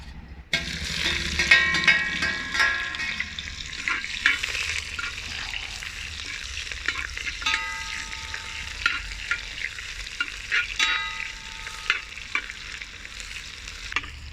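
Sliced onion frying in hot oil with mustard seeds and curry leaves for a Kerala-style fish head curry, a steady broadband sizzle with repeated stirring scrapes and clinks of a utensil against the pan throughout, close and continuous.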